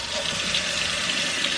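Warm tap water runs steadily over keto ramen noodles being rinsed, a constant close hissing splash with no pauses.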